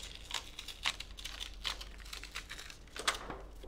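Stencil peeled straight up off a painted Dollar Tree door mat, giving faint crinkly tearing and crackling bursts that come in several short separate pulls, close and quiet.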